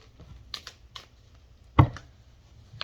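A deck of cards being shuffled gives a few light clicks and riffles, then one sharp louder snap near the middle, heard up close with no talking.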